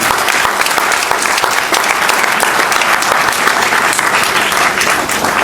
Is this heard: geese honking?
no